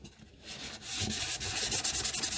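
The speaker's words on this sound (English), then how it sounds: "basically you're just going to sand it down" Sandpaper rubs old thin paint off a 1966 GMC headlight bezel in quick back-and-forth strokes, close and steady, the rasping growing louder and more rhythmic toward the end, with no speech.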